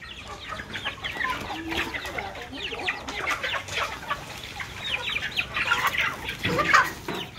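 Chickens clucking and chattering close by at feeding time on a rural Vietnamese farm, a busy flock with overlapping calls that grow louder toward the end, plus faint background voices.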